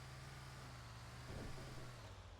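An army-coloured bus drives along in a video game, its low engine droning steadily throughout, with a brief louder swell midway as it seems to pass or accelerate.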